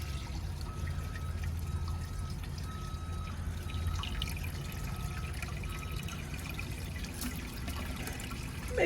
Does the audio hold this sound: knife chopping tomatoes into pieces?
no